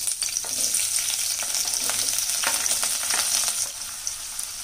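Onions drop into hot oil with fenugreek seeds in a pan for Punjabi mustard greens saag, giving a close, bright sizzle with crackling bursts that settles down toward the end.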